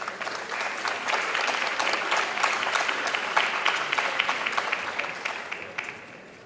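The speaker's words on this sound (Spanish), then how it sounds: "Y lo recibimos, por supuesto, con fuertes aplausos." Strong applause for a vice minister at an international circular economy forum, a dense burst of many hands clapping that swells, holds, and then tapers off near the end.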